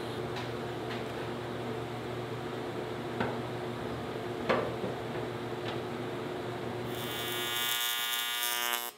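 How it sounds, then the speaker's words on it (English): A flap disc on an angle grinder grinds down aluminum welds on a camper van waste tank. It gives a steady, fairly faint abrasive drone that shifts to a higher buzzing whine near the end. "I used a flap disc to clamp the welds and make a flat surface"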